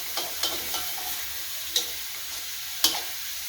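Bacon stir-fries in hot oil for a Thai basil dish, a close, even sizzle broken by several sharp spatula taps and scrapes against the pan, no voices.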